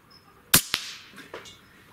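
A .30 caliber JTS Airacuda MAX air rifle with a suppressor fires in a quiet backyard, giving a sharp muted crack followed quickly by a second snap, then faint trailing rattles.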